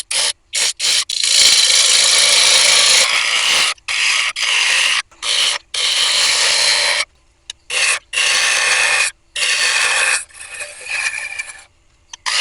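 A turning tool roughs away wood on a spinning workpiece, giving a loud, harsh rasping scrape in repeated close bursts separated by short pauses.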